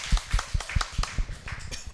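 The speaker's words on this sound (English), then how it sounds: "Big round of applause for Cornelia." An audience gives a round of applause at a talk on climate change, heard as a brief burst of irregular, fairly close claps.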